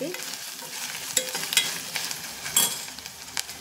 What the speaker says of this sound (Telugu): ఉల్లిపాయలు, మసాలా దినుసులతో పాటు ఇది మునగాకు కూడా బాగా వేగిపోయింది కదా